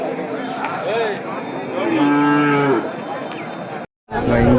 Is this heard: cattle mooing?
yes